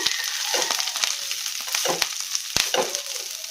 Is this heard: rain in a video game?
no